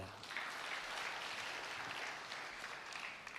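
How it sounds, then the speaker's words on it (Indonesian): Congregation applause in a church service, a broad, even wash of many people clapping together, sustained for several seconds at moderate distance with a faint murmur of voices. "Tepuk tangan untuk Tuhan kita."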